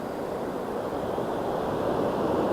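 Floodwater of a river rushing around a bend, a broad steady roar with wind mixed in, continuous and moderately loud with no voices.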